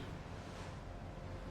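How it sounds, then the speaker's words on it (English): Ocean waves in the video game The Last Caretaker, a continuous broad wash of surf with rushing, windy noise, steady and fairly quiet with no distinct individual breakers. "down to the waves, down to the ocean,"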